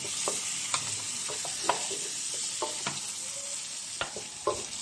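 Ají peppers fry in oil in a home kitchen, a steady soft sizzle broken by scattered clicks and scrapes of stirring, heard close and fairly quiet.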